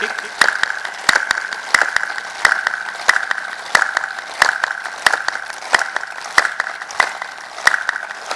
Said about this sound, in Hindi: 30 दफा जम के पूरी ताकत से अपनी ताली बजा लीजिए